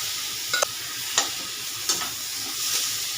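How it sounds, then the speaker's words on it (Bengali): Lentils go into a hot frying pan while cooking a vegetarian pointed-gourd dish and sizzle steadily, with a few sharp stirring scrapes breaking through the even frying hiss. "এবার এখানে ডালটা আমি দিয়ে দিচ্ছি"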